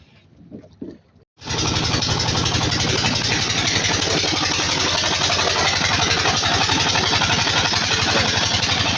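A trawler boat's engine roars to life as the anchor comes up and a river crossing into India begins, then holds a loud, steady drone with a fast low thudding pulse, close by and with no talk over it.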